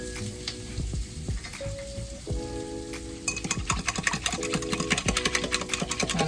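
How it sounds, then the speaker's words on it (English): A whisk beats a buttermilk gravy mixture in a bowl with quick, steady rhythmic scraping and clicking, close and fairly quiet, growing busier and denser partway through. "I'm going to whisk all of this up together here"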